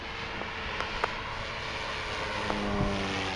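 An electric Seagull Supertucano RC model airplane flying at full throttle, giving a steady whining motor buzz against outdoor noise, moderately distant with a slight rise in pitch, and no talking.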